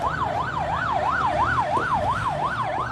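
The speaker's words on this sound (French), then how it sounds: "Cette sirène qu'on entend siffler au quartier Bessengue à Douala" A wailing siren sweeps rapidly up and down in a fast, even rhythm in the Bessengue district of Douala, loud and fairly close over a low hum of city traffic.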